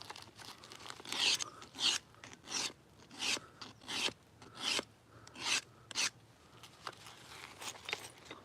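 An obsidian blade edge is sharpened by flintknapping, with a series of short, sharp scraping and rasping strokes, roughly one every half second to second, close and fairly quiet.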